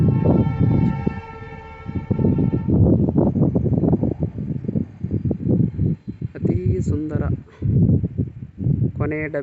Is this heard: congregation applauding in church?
no